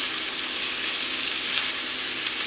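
Pollock frying in a pan with green beans and tomatoes, a steady close sizzle and crackle that holds evenly throughout, with no talking.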